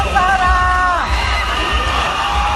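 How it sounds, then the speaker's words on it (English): A pageant crowd cheers loudly during a beauty contest question-and-answer segment, with whoops and shouts layered into a sustained roar and no talk over it. "the crowd is going wild"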